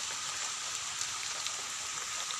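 Heavy rain pours down outdoors near a river by a palm tree, a dense, steady hiss of falling drops with no pauses, moderately loud and without voices.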